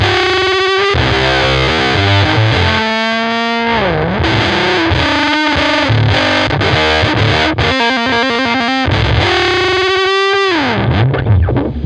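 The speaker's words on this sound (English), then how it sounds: "Now, I'm a big fan of taking the big muff and your guitar," An electric guitar plays a riff through a Big Muff fuzz pedal with the tone rolled off, giving loud, heavily distorted sustained notes, bends and choppy chords with no talk.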